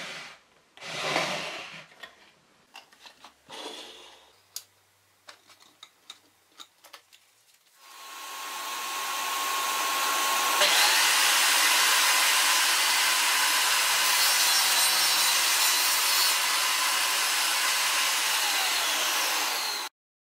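Handling clicks and knocks come first, then a circular saw mounted in a saw table spins up to a loud steady whine and cuts through a wood strip, the roar holding for over ten seconds.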